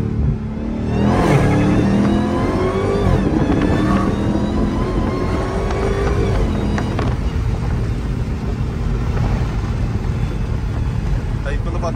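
Dodge Hellcat Chrysler engine revving through acceleration pulls, recorded from inside the car: a loud, sustained engine roar with rising harmonic sweeps that climbs and holds for the whole stretch.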